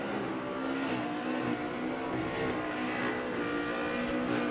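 Drift car running Nitto tires on track, engine droning loud and steady with a steady roar and faint tire noise throughout, close and continuous.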